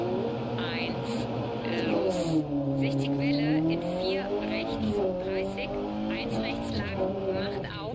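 Rally car engine in Dirt Rally 2.0, revving and accelerating with rising and falling pitch sweeps. It runs loud and steady under ongoing talk, with occasional tire noise.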